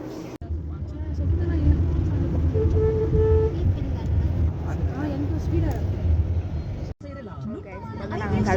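Steady road traffic rumble while stopped in city traffic, with a long car horn toot in the middle and a couple of shorter honks, people talking continuously over the noise.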